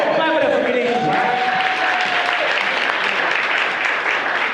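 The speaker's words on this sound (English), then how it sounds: "Clap it up for Bernicia, right?" Audience applause for a guest during a live 100th-episode show, steady and loud throughout, with a voice speaking over the clapping early on.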